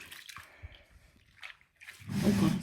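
A foot is dipped into a basin of water during a foot treatment, with scattered drips and small splashes followed by a louder sloshing swirl of water close by near the end.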